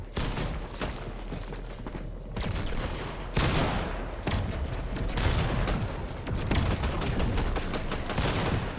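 Rapid gunfire in a competitive video game, dense volleys of sharp shots and bursts firing almost continuously, loud and close with thumping impacts mixed in.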